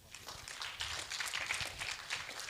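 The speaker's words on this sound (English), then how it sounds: "So we can give our presenters some round of applause" Applause for presenters at an academic session, a brief burst of scattered clapping from a modest audience, fairly faint and steady throughout.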